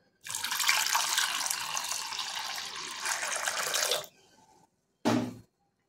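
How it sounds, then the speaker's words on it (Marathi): Water poured from a glass into a bowl of curd, a steady close splashing pour lasting nearly four seconds, then a brief quiet and a second short splash of pouring. "त्याच्यामध्ये आपल्याला 2 ग्लास पाणी टाकून घ्यायचे"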